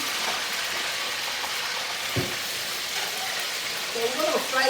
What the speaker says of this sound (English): So we're going to fry the meat in this oil.